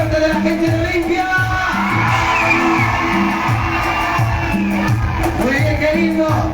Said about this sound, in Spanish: el grito fuerte de la gente de Olimpia